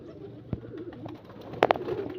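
Pigeons being bathed with water give a few soft coos, with a brief splash or flutter midway and two sharper bursts near the end, all close and fairly quiet, with no speech.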